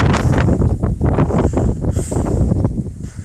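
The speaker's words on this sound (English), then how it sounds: "it's windy out, man. It's windy." Gusty wind buffets the microphone outdoors beside a building under construction, a loud continuous rumble with surging bursts and no talk.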